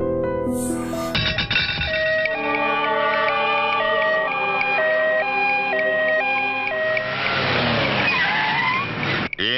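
An ambulance siren wails alongside ministers' vehicles at a checkpoint, its steady alternating two-tone pitch loud and continuous, mixed with engine and traffic noise.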